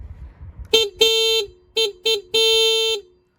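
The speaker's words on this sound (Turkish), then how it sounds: "Kornasının sesini merak edenler olursa kornasının sesini de dinleteyim size." A motorcycle horn on an RKS Icon 50 ST honks five times in short and long blasts, loud and close, with a quiet idle underneath before the first toot.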